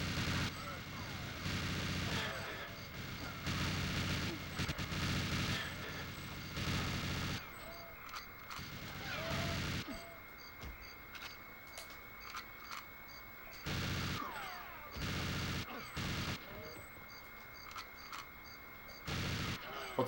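Repeated bursts of RCP-90 fire in GoldenEye for the Nintendo 64, rapid clattering volleys broken by short pauses with game noise between them, running through most of the stretch.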